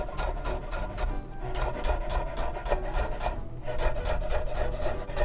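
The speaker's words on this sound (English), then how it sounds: "I'll chop it up a little bit more." Dill pickles are chopped on a cutting board with a knife in rapid, regular scraping strokes, close and continuous with no talking.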